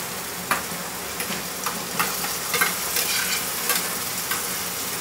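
Ground masala paste fries in oil with onion, garlic and coriander for a cluster bean (gavar) bhaji, giving a loud, continuous sizzle broken by repeated scraping stirs from a spoon in the pan.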